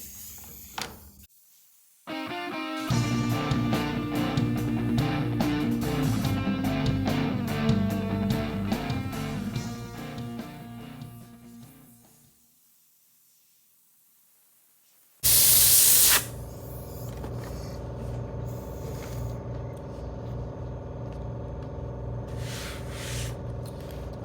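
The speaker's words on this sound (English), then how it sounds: "I'll take the air hose and clean it off so you can see the difference." Compressed air from a hose blasts over sanded wood furniture in loud steady hissing bursts, a long spray, a pause into near silence, then a sharp burst followed by a quieter continued hiss.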